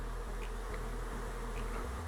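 Honey bees shaken out of their frames into a hive combine, a dense, steady swarm buzz of many insects close by, with no voices.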